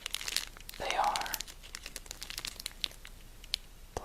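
Plastic bags holding Magic the Gathering cards crinkle and rustle close up, in quick irregular bursts of crackling with a brief tearing swell early on, sounding soft and intimate.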